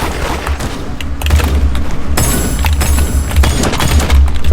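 Loud rapid gunfire from a video game raid, a burst of repeated shots and booms that fills the moment, with no talk over it.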